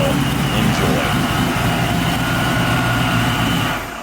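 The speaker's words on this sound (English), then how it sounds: "it's got Orla attack mufflers, and that's where that nasty sound comes from" A 600+ hp Foxbody Mustang with Flowmaster attack mufflers idles with a loud, rough, continuous exhaust drone and a gritty rasp, steady for about four seconds before easing slightly at the end.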